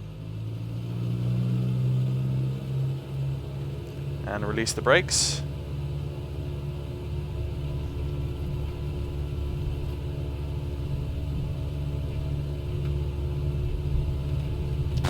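A Cessna 172 engine in a flight simulator runs at full throttle through a takeoff roll, a steady droning rumble with a brief sharp rise partway, under a voice.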